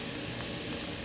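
Mushrooms, onions and garlic hit hot oil in a pan for a beef stroganoff, giving a steady, close, even sizzle with a soft hiss that holds for about a second and has no talk over it.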